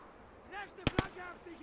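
High-explosive shell fired in Call to Arms: Gates of Hell, Winter War setting: two sharp, loud cannon reports in quick succession, close and punchy, set against faint game ambience with a brief murmur of voice before them.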